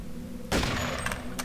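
Video game gunfire bursts out suddenly as a loud, dense volley of shots, with a brief crack near the end, over a constant low background hum.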